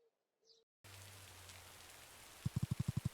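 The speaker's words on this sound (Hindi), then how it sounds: "सुबह के 8 बजे बारिश हो रही है यहाँ पे।" Morning rain falls at about eight o'clock, a steady soft hiss that starts suddenly after a near-silent moment. Near the end, a quick run of sharp electronic alarm beeps plays over the rain.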